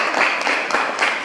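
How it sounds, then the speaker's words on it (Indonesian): A classroom of schoolchildren clapping for the first group after their presentation, a brief, dense burst of applause at steady volume. "Kita sekali lagi memberikan tepuk tangan untuk mereka."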